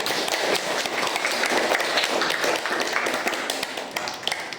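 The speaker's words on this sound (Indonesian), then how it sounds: "Beri tepuk tangan untuk diri kalian sendiri." A classroom of students applauding themselves, a dense burst of close hand claps that rattles on steadily for several seconds, with no one talking over it.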